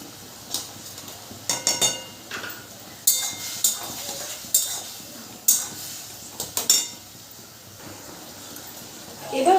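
A spoon scrapes and clinks against a pan while a ginger, chili, turmeric and cumin mixture is stirred for a paneer dish, with sharp irregular metallic taps and scrapes at close range over a quiet background.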